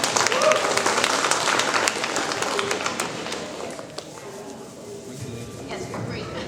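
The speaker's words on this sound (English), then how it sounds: "please give a round of applause for everyone that's on the panel today" An audience claps for a panel at a conference session, with loud, dense applause at first that gradually thins and fades, then a few scattered claps near the end.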